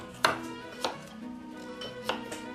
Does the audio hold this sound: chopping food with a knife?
yes